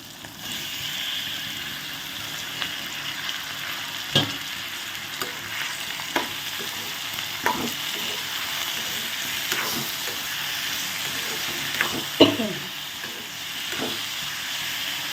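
Tomatoes fry in a pan for tomato chutney with a continuous sizzle and hiss, broken by scattered scraping and stirring knocks and a louder clatter late on.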